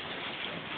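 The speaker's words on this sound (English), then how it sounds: "Oh my God, it's hailing." Hail falls outside during a storm in Texas, a dense, even patter of ice striking surfaces, heard alone at moderate distance for under a second.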